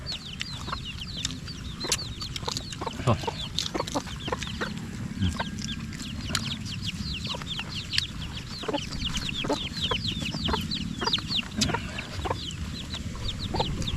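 A crowd of chickens clucks and squawks almost without pause on a farm, with many overlapping sharp calls near and far over a dense, busy background.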